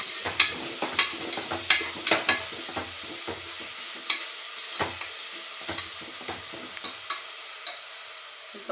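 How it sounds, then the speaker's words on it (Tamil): Spoon scraping and stirring mushroom biryani masala in a cooking pan, giving a string of sharp, close scrapes and taps over a low sizzle, with no talking. "நான் பேசுகிற சவுண்டை விட இந்த கிண்டுற சவுண்டு தான் அதிகமாக இருக்குன்னு நினைக்கிறேன்"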